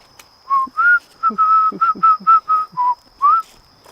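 A person whistles a short melodic tune of about a dozen clear notes, close and steady, with a faint constant hum behind.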